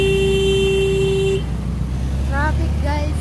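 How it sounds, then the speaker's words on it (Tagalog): Kathmandu street traffic with a loud car horn held in one long steady blast that cuts off, followed by engine rumble and nearby voices talking. "Traffic, guys."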